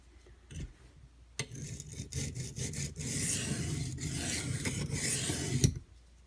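A Rat 1 knife with a D2 steel blade is sharpened by hand, with rasping strokes that come quick and uneven at first, then settle into a steady run of close, scraping passes that stop abruptly.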